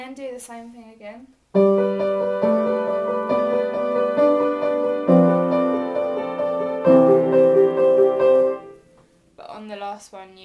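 Piano chords ring out in a repeating sequence of full, sustained block chords, played close and clear, with brief speech before and after.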